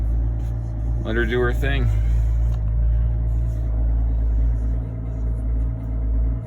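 A 2020 Silverado with the 3.0L Duramax diesel idles after a cold start at 13 below, a steady low rumble running throughout while someone talks briefly over it.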